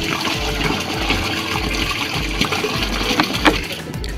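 Water running and gurgling as a seed treater is filled for a test run, a steady close wash of liquid with a low rumble and small splashes throughout.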